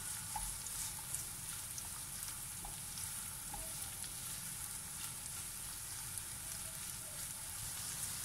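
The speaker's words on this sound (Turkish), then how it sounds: "Ve üzerine şöyle bir tane orta boy küp küp doğramış olduğum soğanımı içerisine ekliyorum. Ve şöyle biraz kavuracağım." Diced onion sautéing in olive oil in a pan, heard as a steady, even sizzle and crackle with small pops, close to the mic, with no talking.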